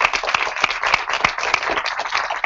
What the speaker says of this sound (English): I really want to give these volunteers a round of applause because we couldn't make it happen without them